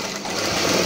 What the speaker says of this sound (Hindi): फिर यहाँ पे सिलाई लगाएंगे।